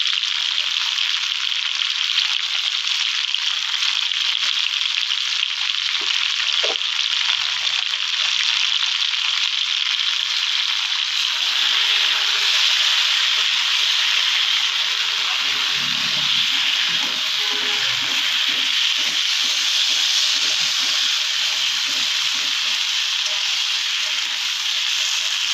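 Cumin paste and green chili paste fry in a pan for a prawn dish, making a steady, loud sizzle and hiss that runs without a break, with a few faint stirring scrapes.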